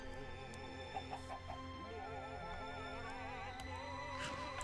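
A flock of chickens clucks and murmurs continuously in the video game Minecraft, several birds overlapping at close range over a steady layer of game background tones, with no speech.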